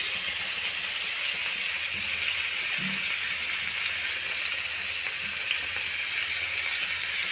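Masala-coated chicken pieces cook on a tawa over low heat, producing a steady, even hiss-like sizzle at moderate volume with no talking.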